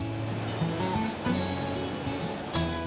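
Tidal waves and churning currents at Port Phillip Heads, where the Rip turns the water into a washing machine, give a steady, loud wash of surf and turbulent water that swells in brief surges throughout.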